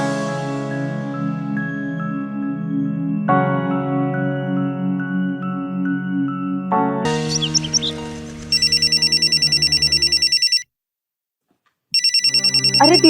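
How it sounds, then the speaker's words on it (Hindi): An electronic ringtone trills loudly in bursts, cutting off for a moment before resuming, after a stretch of soft background music. "अरे दीदी फोन बज रहा है"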